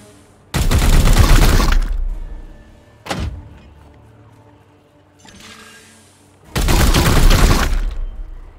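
Gunfire in Warhammer 40,000: Chaos Gate - Daemonhunters: two loud, dense bursts roughly a second long, with a short sharp crack between them and a softer rumble, set against quiet game ambience.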